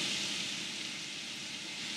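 Green chilies sizzle in a hot pan with scraped ridge gourd (turia) skin, a steady close hiss and crackle running evenly throughout.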